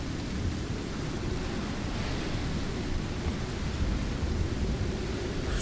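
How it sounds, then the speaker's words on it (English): A heavy thunderstorm in the survival game Icarus: steady, dense rain hiss with a deep, continuous rumble of thunder underneath, moderately loud and unbroken, with no voices. "It's a turbo storm."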